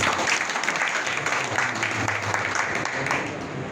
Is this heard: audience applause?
yes